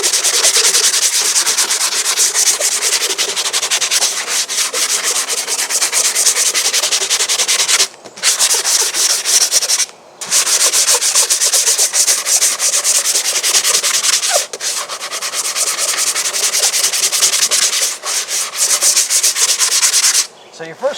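A 160-grit sanding pad rubs steadily across the surface of a model airplane, a loud continuous close scratching with brief pauses between strokes, no talk.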